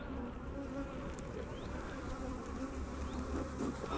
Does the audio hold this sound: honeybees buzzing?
yes